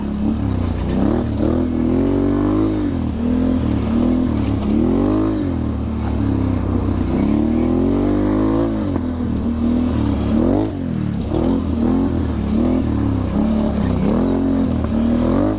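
A Can-Am Renegade 1000 ATV on new Tusk Mud Force tires rides a trail, its engine droning loud and close throughout, repeatedly rising and falling in pitch as the throttle opens and eases, with some rattling underneath.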